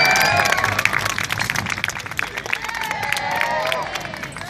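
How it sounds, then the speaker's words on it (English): A street crowd in London cheers and claps for a comedy performer after a big throw and catch, a loud burst of applause and shouts that holds steady for several seconds. "big cheer, everybody."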